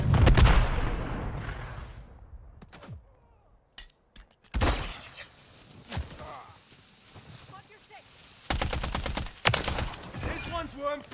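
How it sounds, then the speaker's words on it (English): Grenade blast in Call of Duty Warzone gameplay: a loud, booming burst opens, followed by scattered gunshots and sharp impacts, with game voice lines heard at intervals. "Throwing grenade."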